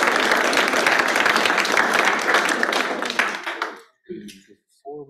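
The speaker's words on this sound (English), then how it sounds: "give those folks all another round of applause for being here" Audience at a community meeting applauding, a dense burst of clapping that fades out after several seconds, followed by a person starting to speak.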